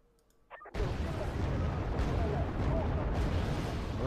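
Missile fire and explosions in the war strategy game Wargame Red Dragon, a quiet start that breaks into a sustained loud roar of blasts and rumbling fire lasting several seconds.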